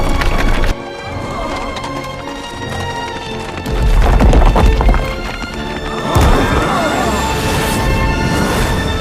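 Horses gallop with rapid, layered clip-clop hoofbeats and the rush of movement in an animated adventure scene, loud and continuous, under swelling orchestral music, with surges of impact noise partway through.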